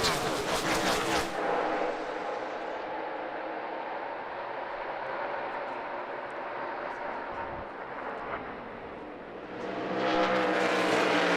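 A field of NASCAR race cars roars away at the start of a race at Phoenix, a dense, continuous engine roar that dips in the middle and swells loud again at the end.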